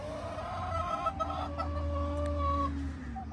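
Chickens cluck and murmur close by, soft overlapping calls with a few longer drawn notes over a steady low hum.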